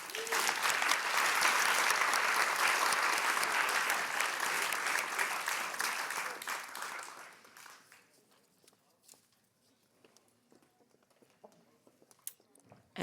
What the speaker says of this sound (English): let's applaud them off